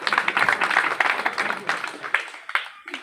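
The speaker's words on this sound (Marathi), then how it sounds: "त्यांच्यासाठी टाळ्या वाजवा" Audience clapping at an annual primary school gathering, a dense burst of applause that tapers toward the end, close and fairly loud.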